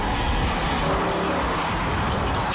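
A Mercedes SLS AMG on an extended high-speed test drive gives a steady, loud broadband roar of engine and road noise, with a hint of tire hiss throughout and no talk.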